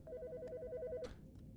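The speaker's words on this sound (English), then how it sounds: "Oh, I'm important. The fucking phone." A telephone rings in a horror video game, one electronic warbling trill of about a second that cuts off sharply, with a short noisy thump right after.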